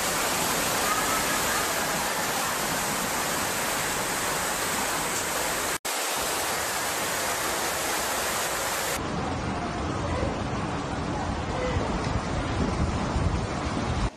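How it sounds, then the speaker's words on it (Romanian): Raging floodwater rushes through the Black Sea coastal region of northern Turkey, a dense, continuous roar like a waterfall that fills the whole clip, with a brief cut near the middle and a slightly duller tone afterward. "Apa furioasă s-a revărsat vijelios în regiunea de coastă a Mării Negre"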